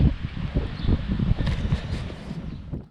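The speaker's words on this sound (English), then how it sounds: "it is a very windy and noisy day" Strong gusting wind buffets the microphone outdoors beside a police station, a continuous low roar with rumbling surges throughout.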